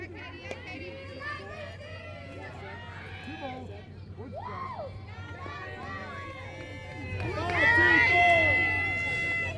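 Crowd noise at a college softball game between Ouachita Baptist and Southeastern Oklahoma State: chatter, shouts and children's voices throughout, swelling louder toward the end.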